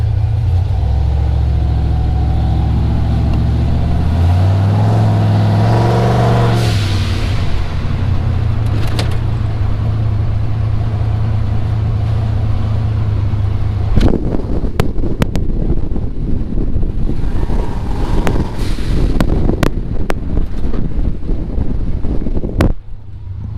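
A turbocharged LS-swapped Chevrolet S10 truck with a 4L80E transmission driving around the block, heard from inside with a steady engine drone that rises and falls through gear changes, then rattles and road noise under wind buffeting.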